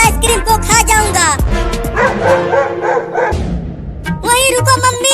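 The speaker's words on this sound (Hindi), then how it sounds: "ये कुत्ता भूखी नजरों से देख रहा है आइसक्रीम को" A dog barks and yips in quick, loud, close bursts, pausing briefly between runs of barks.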